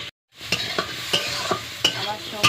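Pumpkin pieces frying in oil with turmeric and salt, a close, steady sizzle after a brief silent start, broken by several sharp spatula scrapes and clacks against the pan.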